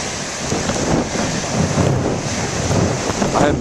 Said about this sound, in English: I guarantee the waves are much bigger today than they were then